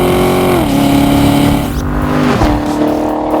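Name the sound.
Corvette C7 V8 engine revving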